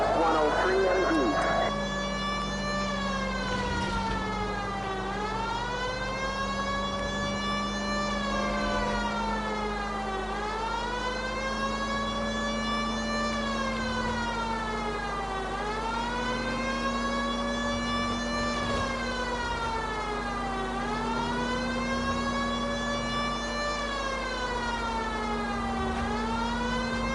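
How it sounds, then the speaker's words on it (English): Police car siren in the L.A. Noire video game, a loud wailing tone rising and falling in steady repeated sweeps throughout, with a constant low engine hum underneath. "Gonna put that siren off for a second."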